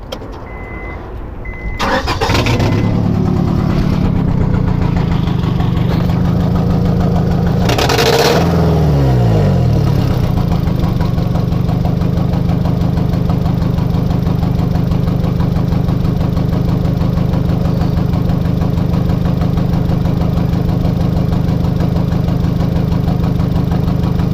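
A 2003 Honda Civic 1.7-litre engine with a restricted exhaust cranks and catches after a brief quiet start, then runs loudly and steadily at a rough idle for the rest of the clip.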